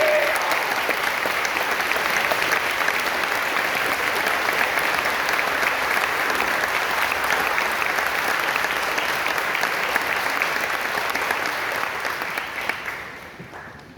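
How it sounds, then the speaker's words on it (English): A large audience applauds faculty and staff at a Madison High event, a dense, steady wash of clapping filling the room for about twelve seconds before tapering off at the end. "Let's give them a round of applause"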